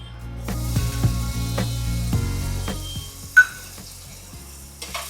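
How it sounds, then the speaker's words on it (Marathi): Paneer being lightly fried in oil makes a close sizzle, with low humming tones under it and a few spoon knocks against the pan, plus one sharper clink near the end. "आता आपण पनीर घेतलेला आहे तो थोडं हलकस परतून घेऊया"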